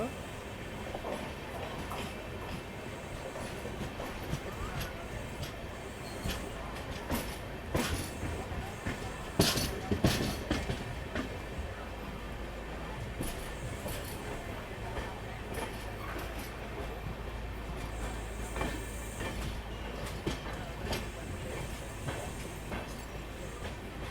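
Ratnachal Express heard from inside a crowded coach: a continuous low rumble and rattle of the moving carriage with scattered clatter and faint background voices.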